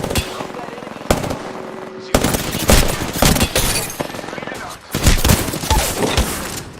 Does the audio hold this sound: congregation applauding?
no